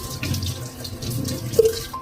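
Dirty water from a home RO water filter being cleaned pours and splashes in a steady, close rush, with a brief louder gurgle near the end.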